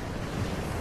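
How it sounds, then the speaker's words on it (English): Ocean waves and water in a VR theatre game set on an island, a brief, loud, even wash of surf with no voices. "All these water sounds."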